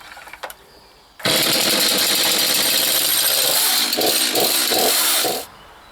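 A STIHL MS231 CBE chainsaw with ergo start catches after a couple of faint pull sounds and roars to life, running loud and close at a high idle with a few rhythmic revs before cutting off abruptly.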